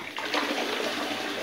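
Bathtub jets switched on in bath water holding a dissolved wildflower bath bomb give a sudden rushing, bubbling gush that holds steady and loud, close by and without voices.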